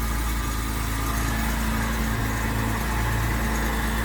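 A 1976 Jaguar XJ 4.2 automatic's engine idles steadily without a break, a constant low rumble with a faint hiss above it and no talking.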